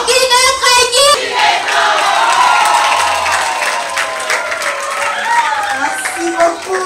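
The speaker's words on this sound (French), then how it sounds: "Est-ce qu'on peut applaudir encore?" A group of children claps and cheers at an African Child Day gathering in Congo, with a loud burst of clapping and excited voices filling several seconds.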